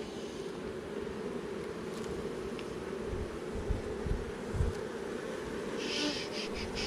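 Dense, continuous buzzing of agitated honey bees swarming around an opened hive, close and steady with occasional louder passes near the microphone, outdoors under light wind.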